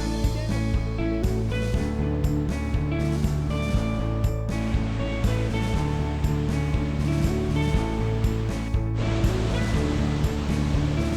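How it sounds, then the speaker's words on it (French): A powerful waterfall, the largest at a site in Chiapas, Mexico, roars continuously, a dense, unbroken rush of falling water filling the scene throughout. "là c'est la plus grosse cascade du site"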